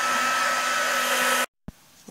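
A hair dryer blows with a loud, steady whir, then abruptly shuts off, leaving near silence and a brief clatter.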